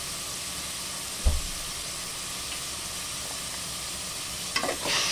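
Chicken bouillon cubes fry in hot oil as a steady sizzling hiss, broken by a couple of brief scraping stirs and clatters from a utensil in the pan, with no talking.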